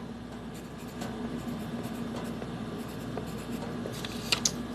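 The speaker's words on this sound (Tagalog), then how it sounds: "kumuha ka lamang ng papel, at pagkatapos ay isulat mo ang iyong pangalan" Pen or pencil writing a name on a sheet of paper, a soft continuous scratching close by that runs steadily, over faint background hum, with a couple of sharper taps near the end and no voices.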